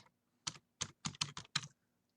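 Six distinct clicks of typing on a computer keyboard, close and clear against near silence, with quick keystrokes falling in an uneven rhythm over about a second.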